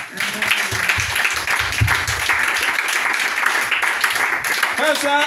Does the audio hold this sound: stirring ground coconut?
no